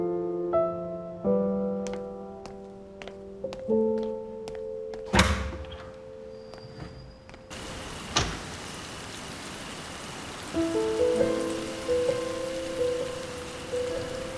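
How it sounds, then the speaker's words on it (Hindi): Rain falling near a parked car at night, a soft steady patter that comes in after tonal musical notes and a thud, continuing under a light drone. "बारिश दोबारा से शुरू हो गई है।"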